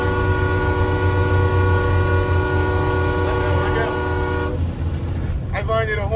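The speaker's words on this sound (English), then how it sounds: "I need a horn." A loud, sustained truck air horn blares for several seconds, then cuts off, followed by rumbling engine noise and a brief voice.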